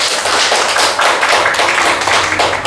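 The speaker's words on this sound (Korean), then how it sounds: "박수 한번 쳐주세요." A roomful of people clap together at a Buddhist dharma meeting, dense and fairly loud continuous clapping for a couple of seconds with no talk over it.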